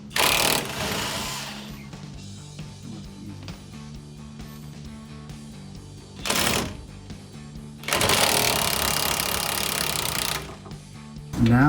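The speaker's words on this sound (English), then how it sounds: "we're going to go ahead and use the impact" A big impact wrench hammering on seized 19 mm lower control arm bolts of a Tacoma front suspension, loud rattling bursts of a few seconds each with pauses between, close to the tools.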